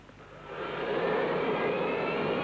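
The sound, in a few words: jet airliner engines during takeoff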